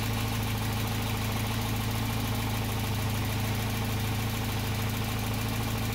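A car with a single-channel CDI ignition idles steadily at around 800 RPM while the ignition timing is checked with a timing light. The engine gives a constant, close, even hum and throb with no talk over it.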